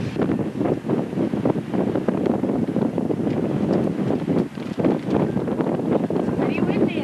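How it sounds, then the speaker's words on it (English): Strong wind buffets the microphone on Bob's Peak in Queenstown, a cold mountain summit, and the gusts roar and rumble steadily throughout. Voices can be heard faintly under the wind. "Pretty windy out here."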